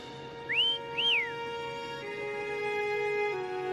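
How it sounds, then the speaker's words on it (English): Whistling in Wuthering Waves to call Foam: two short rising whistle notes, the second curling up and dropping, over a soft sustained musical drone. "Try whistling."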